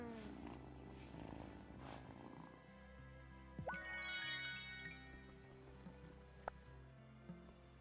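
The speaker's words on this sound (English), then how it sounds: "Oh, what a good purr." A cat purrs in a low steady rumble in the video game Wylde Flowers, close and soft, joined midway by a brief bright chiming sweep.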